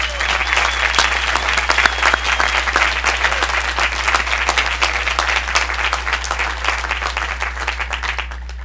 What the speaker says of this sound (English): join us in giving a warm round of applause to the more than 700 orientation